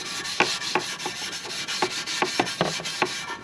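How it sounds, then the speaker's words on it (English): Scotch-Brite pad scrubbing rusty, corroded motorcycle exhaust headers in one direction, a series of short raspy rubbing strokes repeating at a steady pace, close up with no talking. "we're gonna get our little Scotch-Brite and we're gonna try to go like one direction and start polishing this stuff"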